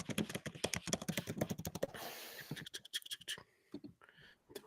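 Rapid typing on a computer keyboard clatters in quick, dense bursts, close and clear, then thins into scattered keystrokes with brief pauses.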